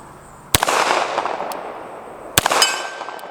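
CZ SP-01 Tactical pistol shots at an 8-inch steel plate outdoors, two sharp loud cracks about two seconds apart, each followed by a ringing metallic ping and echoing tail, with a faint tap between.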